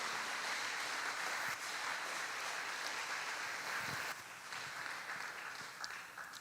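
A church congregation applauds in a sustained, dense burst of clapping that sounds moderately distant and reverberant, tapering slightly toward the end.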